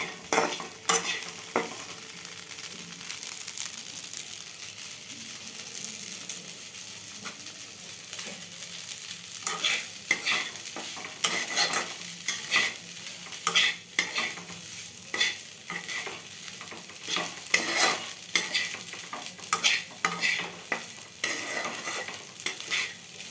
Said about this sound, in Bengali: দিয়ে একটু নেড়ে চেড়ে নেবো, নিয়ে নামিয়ে দেবো।